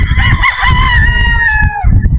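A pure Boston Roundhead brood stag rooster crows once, loud and close, a drawn-out call that fades at the end over low background rumble.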